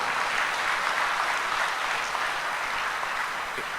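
An audience claps for two sportswomen at a sports kit presentation event, a dense, steady wash of applause that holds evenly throughout with no speech over it.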